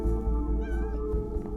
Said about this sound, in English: the witch cat's here.